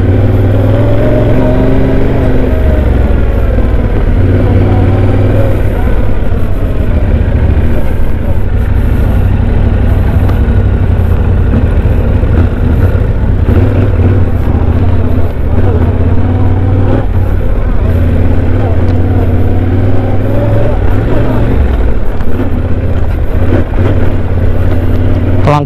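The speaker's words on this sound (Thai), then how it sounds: "เครื่องยนต์มันแรงมากครับเพราะว่าท้องมันจัดมากๆเลยนะยิ่งถ้าบิดปุ๊บเนี่ยแน่นอนครับมันพร้อมที่จะลื่นถลายได้เลยฮะ" Yamaha Tenere 700 adventure motorcycle engine running loud and steady off-road, a continuous low rumble with rises in revs throughout, close to the rider.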